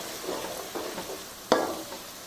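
Onions for chicken biryani frying in hot oil over high to medium flame, a low steady sizzle broken by soft stirring scrapes and one sharp clink of a utensil against the pan.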